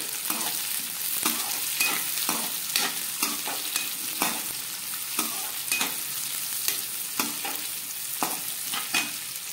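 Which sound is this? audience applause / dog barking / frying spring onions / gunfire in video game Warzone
frying spring onions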